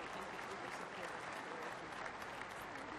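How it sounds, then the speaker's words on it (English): Dense, continuous clapping from a crowd, steady and even throughout, with no break. "Let's give them a round of applause"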